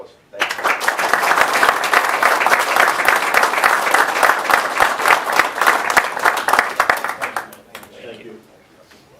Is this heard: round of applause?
yes